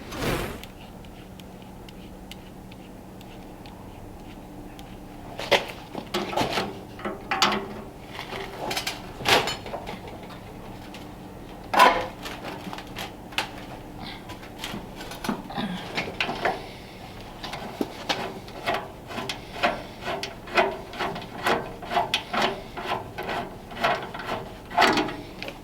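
A hand rivet nut tool from Astro Pneumatic sets threaded inserts, making a series of close mechanical clicks, ratcheting snaps and metallic clacks in irregular bursts, with handling noise between them.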